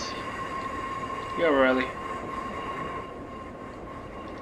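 Class 142 Pacer train running in Train Sim 2019 near Dalston Station, a steady rumbling drone with a constant tonal hum, while someone speaks briefly over it.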